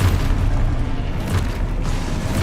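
Expulso explosion spell in a wizarding video game, heavy, deep booming blasts with low rumbling bursts repeating across a couple of seconds, loud and close.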